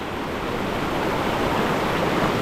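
A cold stream with a strong current rushes steadily, a close, even wash of flowing water with no pauses.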